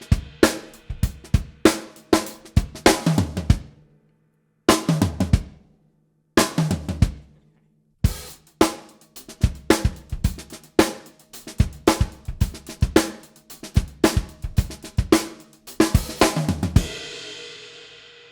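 Drum kit playing a groove with short pauses, where a quick fill lands on the last beat of each measure; a series of close, crisp hits in repeating bars, ending on a ringing cymbal.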